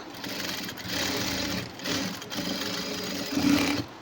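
Bursts of a sewing machine stitching a high neck blouse, running close and steady with brief pauses between runs.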